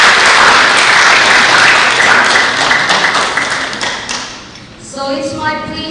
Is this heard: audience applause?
yes